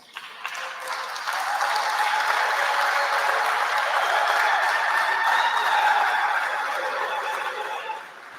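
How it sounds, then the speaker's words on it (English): Full round of applause from a standing gala audience in New York welcoming Zambia's president, swelling after a few scattered claps into sustained dense clapping with some cheers and whoops before tapering off. "join me in welcoming our president with a round of applause"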